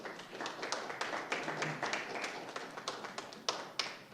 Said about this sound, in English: if you could refrain the claps, if you can, please